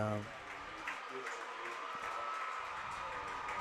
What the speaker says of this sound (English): Gets a standing ovation now.